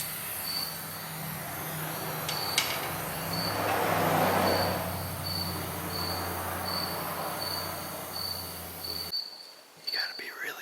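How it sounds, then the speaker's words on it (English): A cricket chirps in steady, evenly spaced high pulses close by, continuing over a low engine-like drone before the background drops away and the chirping stops near the end. "You gotta be really quiet when sneaking up on a cricket."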